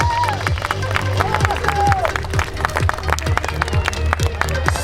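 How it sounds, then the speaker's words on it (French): Applause and claps from a crowd at the prize ceremony of the 2023 Vouglans half triathlon, sharp hand claps ringing out over steady crowd noise with scattered voices, loud and close throughout. "Tonnerre d'applaudissements"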